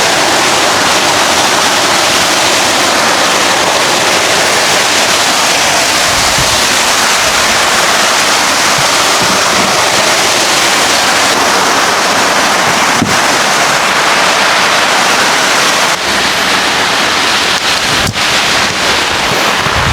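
Heavy rain pours down on a dwarf coconut farm, a loud, dense and continuous roar that stays close to the microphone throughout.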